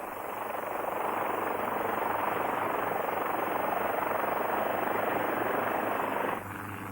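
A helicopter flies over the island of Dia, its rotor and engine making a loud, continuous roar from close by, with a camera mounted on the landing gear; the roar drops slightly just before the end.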